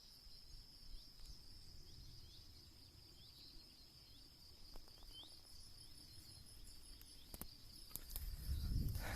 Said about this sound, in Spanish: Nada más que los grillos, las chicharras